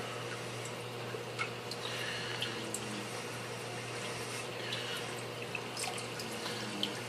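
Water siphons out of a bottle in a homemade hydroponics setup, a steady close trickle with small drips and splashes over a constant low hum.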